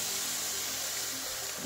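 Water poured into a pan of sautéing chayote and chicken gives a steady, broad hiss and sizzle that holds at an even loudness throughout, close by with no voices.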